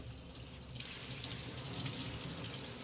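Cold water pouring from a sink tap over a dirty helmet liner being rinsed, a steady close rushing splash that thickens slightly after the first moment, no voices.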